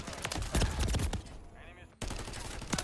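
Rapid gunfire in Call of Duty MW3 crackles loud and close in dense bursts, breaks off briefly into a muffled, ringing lull, then resumes abruptly with more shots, while voices talk over the action.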